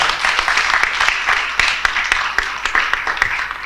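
Sustained audience applause for a panel at a women's peace leadership event, a dense, even wash of many hands clapping close by without a break.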